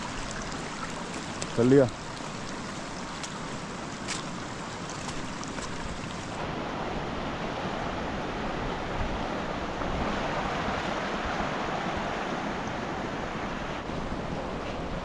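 A river rushes beside a mountain homestay, a steady broad wash of flowing water close by with wind across the microphone and a brief spoken word near the start.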